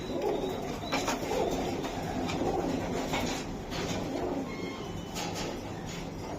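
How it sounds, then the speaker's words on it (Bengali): Soft cooing of young Budapest pigeon chicks runs steadily through the clip amid a busy, noisy background, with a few brief higher chirps and no talking. "মিলিবার বুদাপেস্ট কবুতরের বাচ্চা।"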